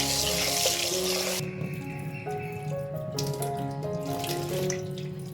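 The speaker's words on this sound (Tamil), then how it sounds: "இப்போ கவுனி அரிசியை நல்லா கழுவிக்கணும்." Kavuni black rice is washed under a running kitchen tap, with water pouring steadily into a sink, then shifting to sloshing and swirling as the grains are rinsed by hand, nearby and moderately loud.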